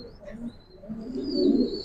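Giribaz pigeons coo softly nearby, low rolling throaty calls rising toward the end, with faint higher chirps over a quiet background.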